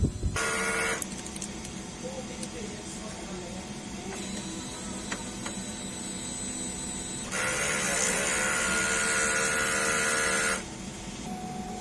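A DTF printer runs a strong head-clean cycle, giving a steady mechanical whir with louder bursts of pumping and buzzing, close and continuous for about twelve seconds.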